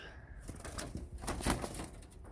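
A Jansen racing cock pigeon with a thick cere and chestnut eyes, from a breeding loft, gives soft, low cooing up close amid light rustling and faint background voices.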